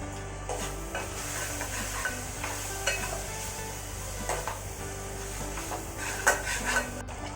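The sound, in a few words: chili powder stirred into frying wild mushroom curry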